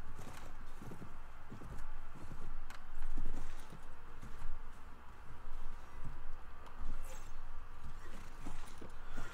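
Horse hooves clip-clop steadily in the Mount & Blade game, a soft, fairly quiet walking rhythm with faint clattering mixed in.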